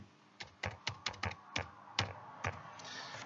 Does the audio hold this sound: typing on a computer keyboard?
yes